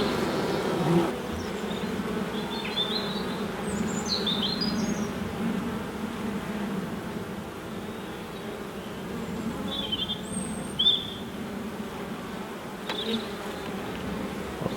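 Honeybees drone continuously around an open hive, a dense, steady buzz close by, with a few faint bird chirps breaking through now and then.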